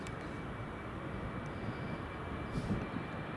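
A British Airways airliner rolls down the runway at Edinburgh Airport for takeoff, a steady, fairly faint broadband engine roar heard from a distance with no voices over it.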